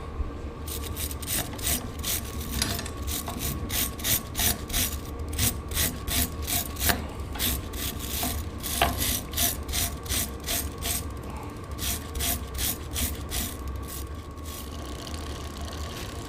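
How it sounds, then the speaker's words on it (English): Dry scrubbing of rust from between the gears of a restored Castello Vetto bicycle, with a steady run of rapid rasping, ratchet-like strokes close by, continuing for the whole stretch with no talk. "Try and get a bit of the rust off from between the gears."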